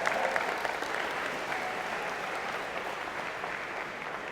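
Steady applause from an audience at a College of Engineering and Computer Science convocation ceremony honoring students, an even, dense clapping that holds throughout without pauses.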